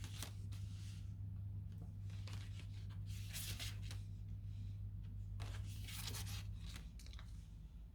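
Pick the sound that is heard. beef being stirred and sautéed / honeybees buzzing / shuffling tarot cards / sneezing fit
shuffling tarot cards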